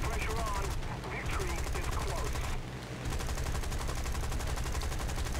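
Rapid aircraft cannon and machine-gun fire in the air-combat game War Thunder, dense continuous bursts with two brief pauses, loud and close over engine drone.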